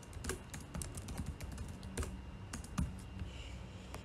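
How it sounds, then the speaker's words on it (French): Rapid keystrokes on a computer keyboard as a password is entered at a Windows PC, a steady run of crisp clicks with a few sharper taps, close and alone over a low room hum. "Je tape le mot de passe."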